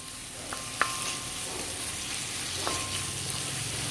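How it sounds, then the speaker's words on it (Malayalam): Grated coconut frying in hot oil crackles in an even, close sizzle, broken by a few sharp metallic taps as it is stirred. "അപ്പോൾ ഈ തേങ്ങ ഈ എണ്ണയിൽ കിടന്നുകൊണ്ട് മുരിഞ്ഞോട്ടെ."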